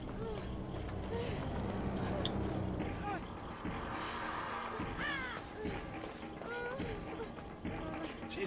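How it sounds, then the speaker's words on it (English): Several crows caw in the Dead by Daylight video game, their harsh calls repeating at scattered moments over a busy game soundscape, while players talk underneath. "Why are these birds over here?"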